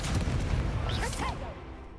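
Incendio fire spell cast in Hogwarts Legacy, a dense rushing burst of flame with a low rumble that fades out near the end, partly under a brief voice.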